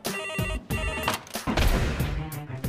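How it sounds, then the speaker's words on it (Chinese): A telephone rings in a traffic police report office, with repeated bright ring bursts broken by short gaps, fairly close and clear. "电话啊，贝森。"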